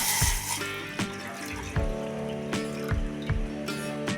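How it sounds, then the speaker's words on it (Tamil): Thick milk pours steadily into a pan, a continuous trickling splash with a few soft knocks, close and fairly quiet. "நான் இதில் ஒரு கப்பு திக்கான பால் சேர்த்துக்கிறேன்."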